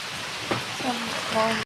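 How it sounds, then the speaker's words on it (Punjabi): Steady heavy rain hisses throughout, a dense wash of noise with a few faint voices murmuring underneath. "ਮੀਂਹ ਪੂਰਾ ਪੈ ਗਿਆ ਬਹੁਤ ਜ਼ਿਆਦਾ ਸੜਾਕਾ ਪਿਆ"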